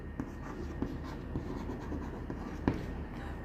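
Pen or marker writing out a chemical name on a board in a chemistry class, a steady close scratching with small taps and strokes throughout, alone without talk.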